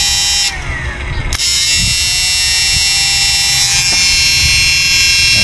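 A repaired 86000W old-model inverter runs under a 1K load test, giving off a steady electrical buzz and whine with a brief dip and a couple of faint clicks, close and continuous.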